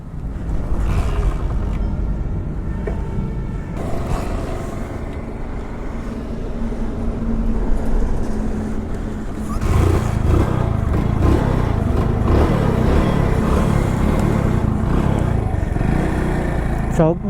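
Hero Splendor motorcycle engine started with the choke on and left running: a low, steady idling putter, growing rougher and louder after a few seconds, with someone talking over it throughout.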